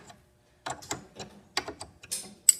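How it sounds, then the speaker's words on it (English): Two wrenches turn the check valve off a Statim 2000 autoclave, making a quick series of close metallic clicks and ratcheting scrapes in short irregular bursts over near silence. "you're just going to need a 7/16 wrench and a 9/16 wrench to take the check valve off"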